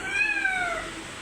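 A cat meow sound effect played on a Casio CT-X8000IN portable keyboard gives one clear, drawn-out meow with a falling pitch, heard alone.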